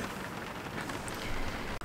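Pouring rain on a rainy day, a dense, steady hiss of falling water that fills the whole moment at constant loudness, close and enveloping, with no voices.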